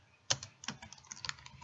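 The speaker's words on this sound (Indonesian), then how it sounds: "setelah itu kita ketikkan java" A command being typed on a computer keyboard: a short run of quiet, close key clicks tapped at an irregular pace, with no voices.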